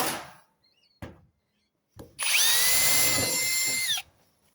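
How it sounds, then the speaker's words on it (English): A power drill whines at close range for just under two seconds while drilling a guttering corner for a rivet, after a few scattered clicks and knocks. "I'm going to put a rivet right here"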